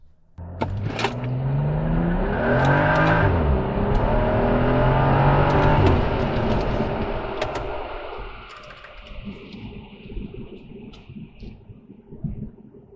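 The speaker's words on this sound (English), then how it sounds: "it's time to do a quick shakedown run with some hard pulls to make sure a new charge pipe holds boost" A car with a newly fitted charge pipe pulls hard on a shakedown run, its engine revving up loudly with climbing pitch for several seconds before the sound eases off and fades into quieter road noise.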